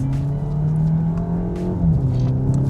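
A Volkswagen Golf MK8 accelerates hard with rolling anti-lag engaged, its engine droning loud and steady at high revs with a rising harmonic whine, close and continuous with no voices.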